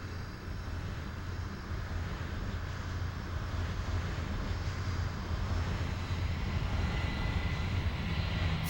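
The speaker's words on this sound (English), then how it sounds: "Fly runway heading, runway 27 left, clear for takeoff, wind 150 at 7." An airliner takes off from runway 27 left, its jet engines a loud, constant broadband roar with deep rumble that holds steady throughout, with no voices.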